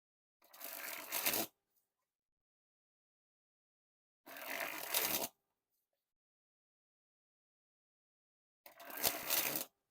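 A deck of Dunkers playing cards is sprung from hand to hand in three short, crisp fluttering bursts, each about a second long, with silence between them.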